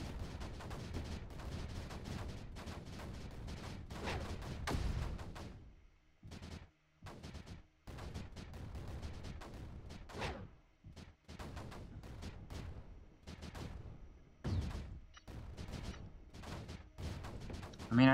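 Cannon fire in the video game Creeper World 4, heard as quick bursts of sharp gunfire-like shots, sometimes continuous and sometimes broken by short gaps, at a moderate level with no voices.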